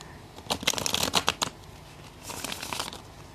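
Tarot cards are riffled and shuffled close by in two quick bursts of crisp flapping and ruffling, a louder first run then a softer second, in a quiet room.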